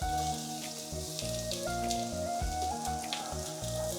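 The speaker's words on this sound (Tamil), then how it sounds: "எண்ணெய் லைட்டா ஊத்திக்கிறேன். ஒரு பச்சை மிளகாய் எடுத்து 2ஆ கட் பண்ணி பச்சை மிளகாய் பொரிஞ்சதுக்கு அப்புறம்" Green chili halves frying in a little oil in a home kitchen pan, a steady close crackling sizzle with dense popping spatter throughout and no talking.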